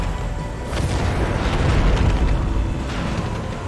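A deep, rumbling explosion in the video game Far Cry 5, a heavy boom that swells and rolls on for several seconds with crackling debris throughout.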